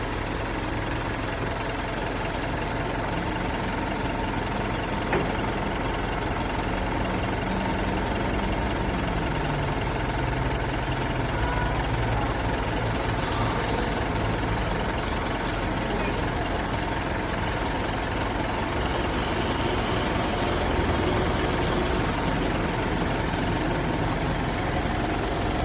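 A Mitsubishi Montero engine idles steadily during an engine flush, a continuous loud rumble with faint knocking texture and vibration that runs without a break from start to end.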